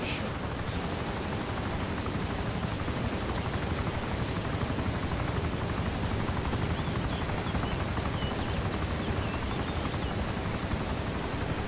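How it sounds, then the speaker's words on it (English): A Chinook helicopter flies overhead in the video game DayZ, giving a constant dense roar of rotor wash and engine noise that holds steady without voices. "Yeah, there's a Chinook overhead."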